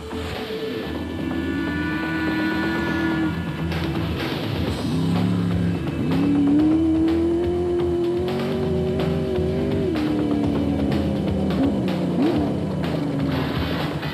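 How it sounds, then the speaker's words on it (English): Big engine of the yellow Atlas Copco special-vehicle-class rally car at the Rustenburg 200 rally in 2007, revving loud and close with rising and falling pitch sweeps, sustained throughout with no talk. "This is one big engine and it always wants a bit more punishment."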